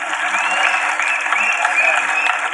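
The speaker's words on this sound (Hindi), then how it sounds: "जोरदार ताली कही भाई मैंने, जोरदार।" Crowd at a political rally applauding, a steady wash of clapping that fills the whole stretch, with faint voices and whistles over it.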